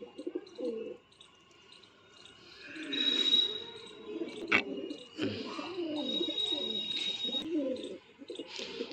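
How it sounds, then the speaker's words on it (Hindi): A white and a black pigeon fighting, with low throaty cooing phrases repeated over several seconds, bursts of wing flapping and scuffling, and a sharp knock midway, recorded close up. "सफ़ेद वाला कबूतर उड़ उड़ के मार रहा, देखो काले वाले को ज़बरदस्त लड़ाई।"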